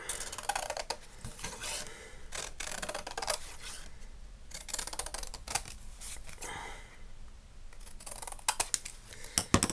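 Scissors snip through paper while a mini album is trimmed, a close run of short crisp cuts and light rustling that gets busier toward the end.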